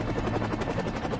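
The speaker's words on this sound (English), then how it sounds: "Helicopter thing." A video game helicopter's rapid rotor chop thumps steadily and fairly loudly throughout a short stretch, with a low engine drone underneath.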